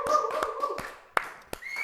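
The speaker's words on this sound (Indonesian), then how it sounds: "Tepuk tangan untuk saya sendiri." A few sharp hand claps, sparse and irregular, ring out in an indoor talk-show setting, one person applauding briefly over a faint background.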